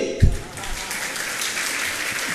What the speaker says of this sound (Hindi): बजाओ तो ताली